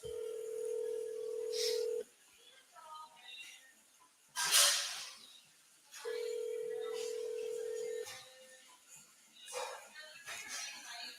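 Phone line ringing out while calling a real estate agent: two long steady rings separated by a pause, fairly loud and close, with faint clicks and noise between them.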